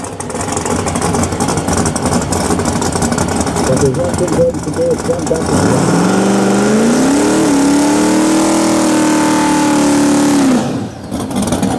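Radial drag racing car Fugly revs loudly at the line, then launches with a rising, sustained engine roar that holds for several seconds before cutting off, with a crowd and commentary mixed in throughout.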